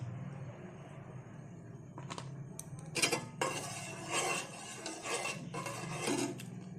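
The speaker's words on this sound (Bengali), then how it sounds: "এভাবে নেড়ে নেড়ে দুধটা একটু ঠান্ডা করতে হবে" A spoon stirs hot milk in a metal pot to cool it for homemade milk ice cream, giving repeated clinking and scraping strokes against the pot over a steady low hum, close and moderately loud.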